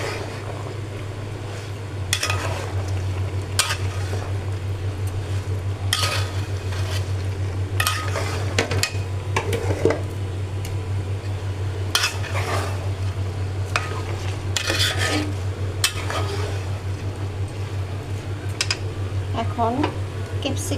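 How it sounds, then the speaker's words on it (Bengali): Vegetable and meat khichuri is stirred in a pot over the heat. A soft sizzle runs under repeated scraping strokes and light clinks of a spoon against the pot, over a low steady hum. "ভালোভাবে নেড়ে মিশিয়ে নেব।"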